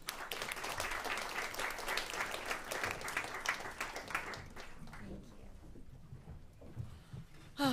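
Applause from a panel discussion audience on food, agriculture and climate, steady and full for about four seconds, then thinning to scattered claps and murmurs before a voice begins.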